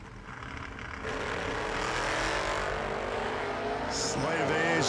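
Drag race cars, including a Monza, roar down the strip in the second round of a bracket race; a loud, sustained engine blast builds after the first second, with an announcer talking over it.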